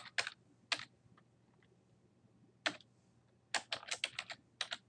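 Keystrokes on a computer keyboard during web coding, heard as a couple of isolated clicks, a pause, then a quicker burst of typing, close and fairly quiet with no talk.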